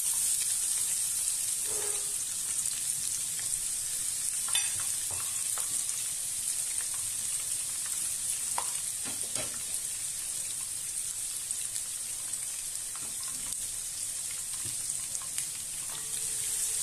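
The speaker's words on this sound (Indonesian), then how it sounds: "Saya tumis bawang irisan tadi dulu." Sliced shallots sauté in a pan for a chicken curry, giving a steady, close, crackling sizzle with a few scattered stirring knocks and no voices.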